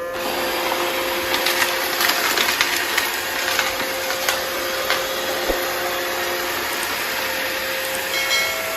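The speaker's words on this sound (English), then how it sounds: "I want to test out the vacuum strength of this Roomba" An iRobot Roomba 694 robot vacuum sweeps chips off a floor, a steady motor whir with scattered crackling clicks and rattles of debris being picked up, close and continuous.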